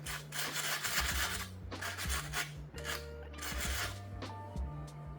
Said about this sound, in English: If so, use sandpaper to smooth the surface.